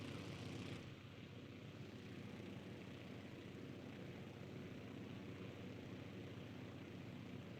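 Steady, droning airplane engine in a flight simulator game over Alabama, a constant broadband hum that holds evenly throughout with no other sounds.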